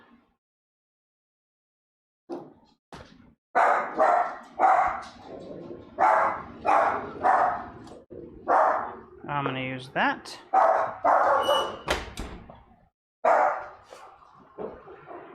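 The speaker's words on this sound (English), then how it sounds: "And my dog is going nuts." Dog barking in a home kitchen, repeated loud close bursts in uneven runs with a few yips and whimpers, mixed with a person talking.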